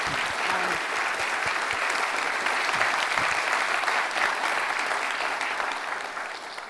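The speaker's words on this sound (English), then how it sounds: "Please join me in a round of applause for our two" An audience applauds two speakers after a talk, dense sustained clapping that sounds close and full and holds steady before starting to thin near the end.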